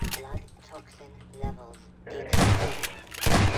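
Gunfire in the video game Half-Life 2 Episode Two, a few sharp shots and a loud burst near the end, with excited talk and laughter in between.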